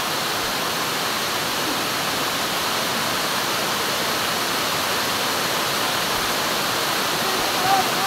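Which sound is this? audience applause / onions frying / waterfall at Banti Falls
waterfall at Banti Falls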